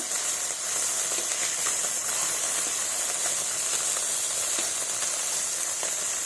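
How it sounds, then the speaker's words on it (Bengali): Small pieces of fish frying in hot oil in a pan, turned so each side browns, give a steady broad hiss and sizzle with scattered crackles, close and continuous throughout. "এইভাবে মাছগুলো লাল লাল করে এপিট ওপিট ভেজে নেব।"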